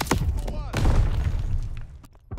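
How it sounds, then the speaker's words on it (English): A stun grenade bursts in Call of Duty Vanguard on Xbox Series X, a sharp thump followed by a second heavier boom with a ringing tail, loud and close amid game noise, with a voice heard briefly. "Tossing stun grenade."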